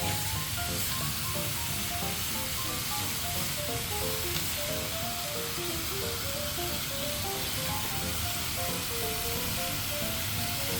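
Lapu-lapu fish sizzles in a frying pan, a steady, close hiss and crackle of hot oil that carries on unbroken throughout.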